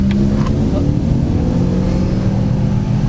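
A BMW X5 with the 4.4 V8 engine revving and accelerating off-road while climbing, a loud close low engine roar that holds steady, with a brief voice at the start.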